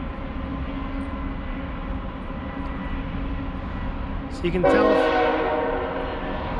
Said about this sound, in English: Oh, here's the train right here.